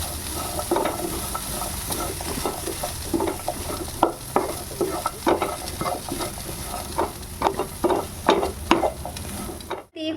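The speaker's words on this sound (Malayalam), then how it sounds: "മസാലയൊക്കെ ശരിക്ക് ഇതിലൊന്ന് ആദ്യം നമ്മൾ പരട്ടണം. അപ്പോൾ അതിന് വേണ്ടി ഒന്ന് മിക്സ് ചെയ്ത് കൊടുക്കാം" A spoon stirs masala frying in a pan for a potato and carrot curry, giving steady sizzling broken by repeated scraping strokes close up, with no voices.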